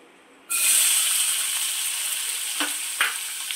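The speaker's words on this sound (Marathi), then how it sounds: "कांदा छान लाल असा परतून घेऊया" Chopped onion hits hot oil with a sudden loud sizzle that keeps frying steadily, with a couple of brief stirring scrapes near the end; no one speaks.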